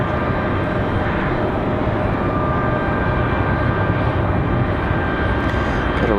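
A JetBlue airliner departs Raleigh Durham airport, its jet engines a loud, continuous roar throughout with no pauses.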